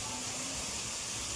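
Cubes of paneer fry in hot oil for biryani, a steady close hissing sizzle with no break.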